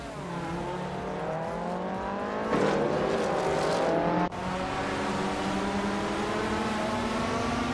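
A BMW 320 Turbo race car engine in a racing video game drones at a steady high pitch, with two quick gear changes breaking the tone. Other cars hum faintly in the background.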